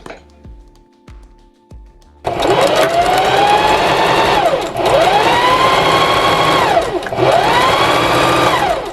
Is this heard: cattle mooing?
no